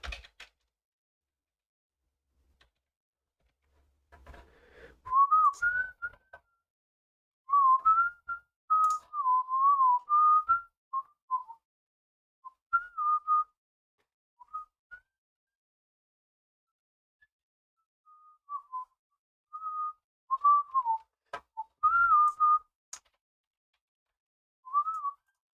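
A person whistling a wandering tune in short, clear phrases separated by pauses, quiet and close, with faint clicks between.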